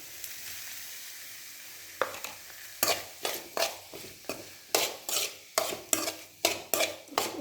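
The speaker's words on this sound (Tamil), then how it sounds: "நல்லா ஒரு கிண்டு." A spatula scrapes rhythmically through a chayote and green pea stir-fry with ground coconut, green chili and cumin in a pan, about a dozen steady strokes over a soft sizzle after a quiet start.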